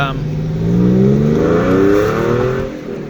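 A car engine revs up and settles back, its throaty exhaust note rising and falling close by.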